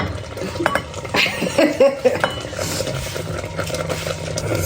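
A metal lid placed on a simmering ugali cooking pot, several clanks and clinks of metal on metal with stirring sounds, close and loud.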